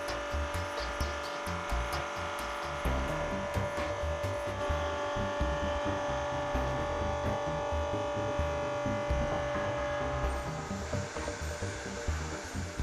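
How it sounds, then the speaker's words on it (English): A BDS AutoCUT 500 weld bevelling machine mills metal with a loud, steady electric motor whine and a grinding cutting rumble that carries on without a break, close up and with no voices. "use the grey rotary knob to set the feed rate so that the machine is slowly fed into the material"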